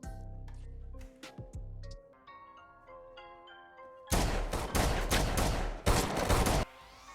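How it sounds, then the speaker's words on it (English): Gunfire from a film scene in John Wick: Chapter 2, loud rapid volleys of shots in the second half after a quieter musical, tonal stretch. "Jhon shoots them all dead as he gets away."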